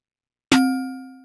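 A snare drum sample processed through a bell-like plate resonator effect tuned around C3, struck once after silence and ringing out as a clear metallic bell tone with harmonic overtones that slowly decays.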